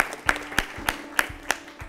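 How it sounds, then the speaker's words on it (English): A studio audience at a school quiz show applauds a competing team, several loud individual claps standing out in an uneven, sparse rhythm that fades out rather than building to a roar. "Let's clap for them as well."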